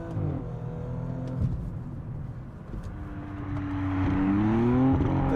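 Twin-turbo engine of a 2023 Audi S6 sounding close up, with steady engine harmonics that dip around a downshift and then climb again in a rising rev toward the end.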